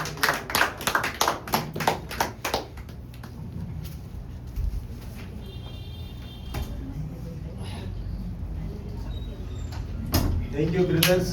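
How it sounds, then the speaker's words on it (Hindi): Audience applause starts as a quick burst of sharp claps, fades into a room murmur with talking, then picks up again briefly at the end. "जोरदार तालियां"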